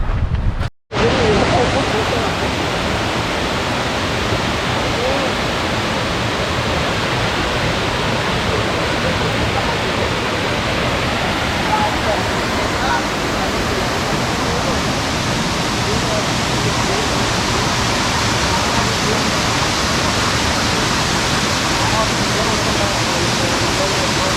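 Pampanal waterfall in Kottayam district roars as a loud, continuous rush of falling water heard up close, steady throughout after a brief dropout at the start.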